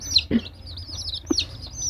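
High, thin peeping chirps of tiger chicken chicks repeat in quick bursts, fairly soft, over a low background rumble.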